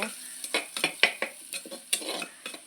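Small shallots sauté in a pan for a fish curry, with a soft sizzle under a rapid series of close spoon scrapes and clacks against the pan.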